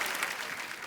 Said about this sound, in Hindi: जोरदार तालियां एक बार रिंकू फौजी और ननद के लिए